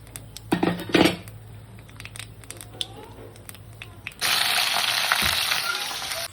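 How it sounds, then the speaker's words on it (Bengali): Black cumin seeds hit hot oil in a pan, giving a sudden, loud, steady sizzle after some clinks and knocks of utensils on the cookware. "তেলটা যখনই একটুখানি গরম হয়ে আসবে কালো জিরে দিয়ে দেওয়া হলো।"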